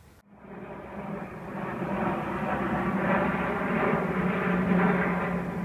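An airplane passes overhead near an airport by a large American auto salvage yard, a steady, broad engine roar that swells slightly and holds loud throughout, with no talking.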